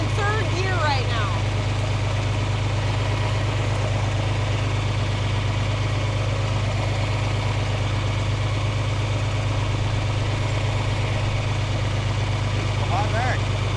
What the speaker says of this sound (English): And the tractor's just idling.